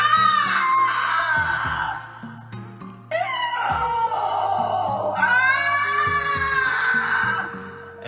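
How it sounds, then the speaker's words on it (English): An old witch screams and howls from inside an oven in long, wailing, rising and falling cries over background music, with brief pauses between shrieks. "Inside the oven, the old witch screamed and howled."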